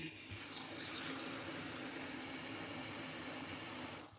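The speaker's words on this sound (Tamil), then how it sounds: "இனி பச்சை தண்ணி விட்டு கலக்க போகிறேன்." Plain water pours into a bowl of bonda batter as it is mixed, a continuous close hiss and trickle lasting about four seconds and ending abruptly.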